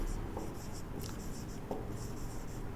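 Marker or chalk writing on a board while working a maths problem, heard as faint repeated scratchy strokes in short bursts against a quiet room background.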